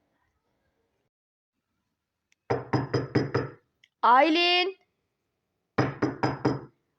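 Two rapid bursts of about five sharp knocks on a door ring out loud and close. A single called name falls between them.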